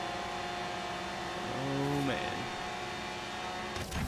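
Racing car engines in Forza Horizon 3 hum steadily at moderate level, with a brief rising whine from a passing car in the middle and a quick rush near the end.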